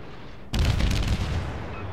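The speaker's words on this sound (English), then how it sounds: "I really love the sound of these guns way more than the Omnivoy's guns" A heavy naval gun salvo from the Soviet destroyer Kiev in World of Warships, a single sudden loud boom that rolls into a dense, rumbling blast and slowly fades.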